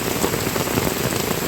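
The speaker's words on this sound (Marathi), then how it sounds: "पहा मित्रांनो केवढा मुसळधार पाऊस पडत आहे" Heavy torrential monsoon rain with wind pours down steadily, a dense, loud, unbroken hiss of drops hammering surfaces nearby, with no voices.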